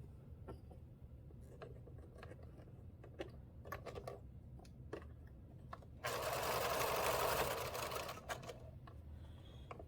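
A sewing machine stitches binding onto a black quilt with an accent strip, a steady close mechanical whir with faint needle clicks, swelling louder and busier for a few seconds near the end before easing off.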